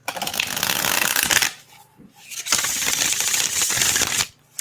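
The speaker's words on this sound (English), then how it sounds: "Let's see how this shuffles." A small tarot deck being shuffled in the hands, two bursts of crisp riffling card flutter separated by a short pause, close and loud with no talking.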